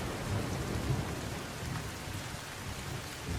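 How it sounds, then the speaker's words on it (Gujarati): Heavy downpour driven by strong wind in the Panchmahal district, a loud, unbroken wash of rain noise with a low gusty rumble, close and steady with no voices. "ભારે પવન સાથે ધોધમાર વરસાદ વરસ્યો છે"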